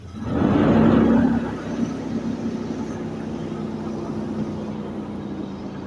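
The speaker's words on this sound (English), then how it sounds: "Like I can rev it." A 1966 Buick Electra 225 engine running with low vacuum revs up loudly near the start, then eases back to a steady, rough idle close by.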